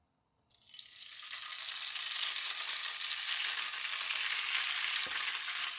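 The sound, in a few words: rice noodles frying in hot oil in a pan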